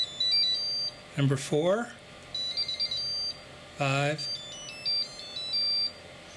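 A Graupner Polaron EX-1400 charger plays its selectable alert tones, short electronic beeps and chirps under a quiet spoken voice counting through the options.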